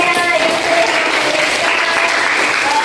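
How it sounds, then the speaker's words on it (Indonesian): A classroom group claps together in steady, dense applause, with a few voices mixed in. "Beri tepuk tangan untuk kalian."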